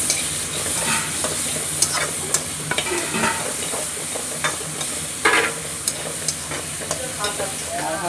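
Onions frying in a pan while being stirred, a steady sizzle with scattered scrapes and clinks of the utensil against the pan, close and fairly loud throughout.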